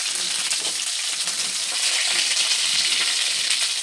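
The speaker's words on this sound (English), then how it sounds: "And then we're going to add the beans, juices and all." A pot of cooking for Jamaican rice as canned beans with their juices go in, giving a dense continuous hiss and sizzle at close range, steady with no talking.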